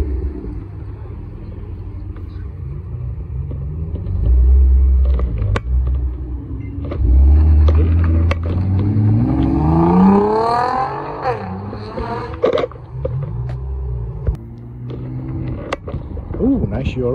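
An original BMW M2 sports car pulls away from a supercar show, its engine rumbling and revving up through a rising sweep amid crowd noise, with people talking nearby.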